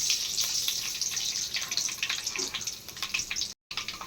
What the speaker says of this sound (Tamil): எண்ணெய் காஞ்சிச்சு வெந்தயம் போட்டாச்சு கடுகு பருப்பு போட்டுக்கோ